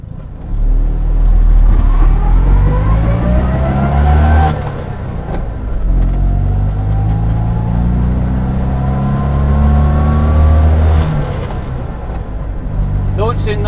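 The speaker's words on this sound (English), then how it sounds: "today we're driving an absolute motoring icon, the original Fiat 500" An original Fiat 500 classic small car, first launched in 1957, drives with a steady close engine drone that climbs in pitch as it accelerates, with a brief break near the middle like a gear change; a voice may be heard over it.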